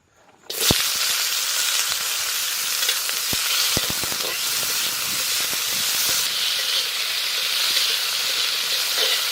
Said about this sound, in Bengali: কি কি ভাজতেছি দেখা দিচ্ছি সর্ষের তেল অল্প পরিমাণে টমেটো কাঁচা লঙ্কা আর আদা